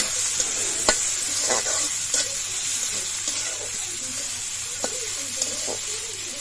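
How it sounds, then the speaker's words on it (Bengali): Chopped onions fry in oil in a pan, a steady close sizzle with occasional clicks and scrapes of stirring over a faint low hum. "পেঁয়াজটা ভালো করে ভেজে নেব"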